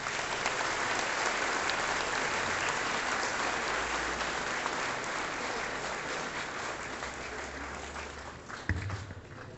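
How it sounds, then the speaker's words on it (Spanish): A school audience at the Interbachilleratos IEBO 2023 event in Ciénega de Zimatlán gives sustained applause, a dense wash of many hands clapping at even strength with a faint voice near the end. "Un fuerte aplauso"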